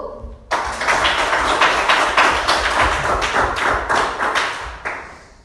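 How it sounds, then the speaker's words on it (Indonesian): A group of people applauds after group 1's class presentation, a dense burst of clapping that starts abruptly, holds steady for several seconds and then tapers off. "kita berikan aplaus untuk kelompok 1"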